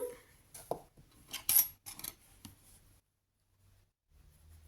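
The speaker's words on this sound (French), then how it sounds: "Je peux couper mon fil." Scissors snip crochet yarn with a few quiet, close metallic clicks and rustles, followed by near silence.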